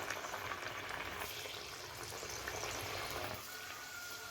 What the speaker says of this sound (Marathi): आपण डाळ वडे आता तळून घेऊया